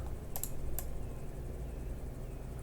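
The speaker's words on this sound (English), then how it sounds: "I should be using the keyboard, I guess, instead" Computer keyboard typing during a Cities Skylines play session, a few sharp clicks early on and then sparse faint taps over a steady low background hum, with no talking.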